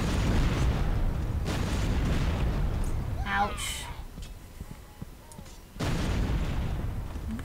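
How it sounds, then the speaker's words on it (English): Deep booming explosions in the video game Overlord rumble heavily at the start and again near the end, with a short spoken exclamation between them. "What is that explosion?"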